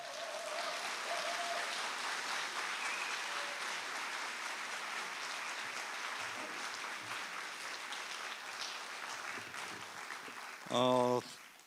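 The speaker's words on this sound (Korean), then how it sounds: "뜨거운 환영의 박수 부탁드리겠습니다" A church congregation gives a warm round of applause welcoming a speaker to the front, dense clapping that slowly fades, with a short burst of music or voice near the end.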